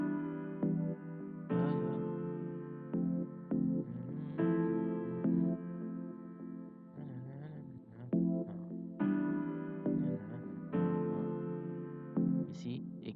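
Piano chords for an Afro beat built in FL Studio ring out in repeated phrases with short pauses between them, played alone and at moderate volume.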